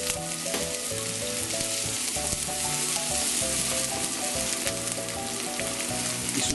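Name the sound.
yellow onions sautéing in hot cooking oil in pan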